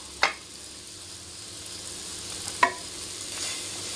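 Spice powders of chili, garam masala and turmeric frying in a curry pan, stirred with a spoon: a steady soft sizzle with two sharp scrapes of the utensil against the pan, no voices.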